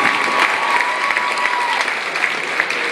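A crowd at a J.J. Pearce High School all-time top players tribute breaks into loud, sustained applause for Jeff Hamilton, with dense clapping and cheering throughout and a voice faintly audible under it early on.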